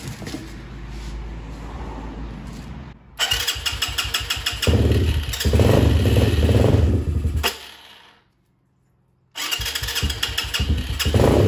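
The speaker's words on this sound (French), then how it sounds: "Maintenant que le démarreur se lance, que la moto démarre très bien" A Kayo 220 mini GP motorcycle cranks on its electric starter, catches and runs loudly with a rough, close idle, cuts out into silence, then fires up and runs again.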